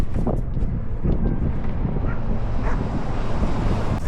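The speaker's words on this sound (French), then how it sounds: "C'est pas les humains qui m'ont arrêté, c'est les chiens." Dogs bark in a few scattered bursts at a cyclist riding along a road on a long-distance bike trip toward Mecca, their barks partly buried under heavy wind rush across the microphone.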